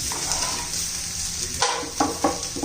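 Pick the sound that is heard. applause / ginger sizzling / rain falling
ginger sizzling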